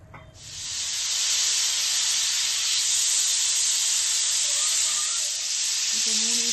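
Pressure cooker venting steam while cooking chicken vermicelli biryani, a loud steady hiss that starts abruptly and holds for several seconds, with faint faraway voices near the end.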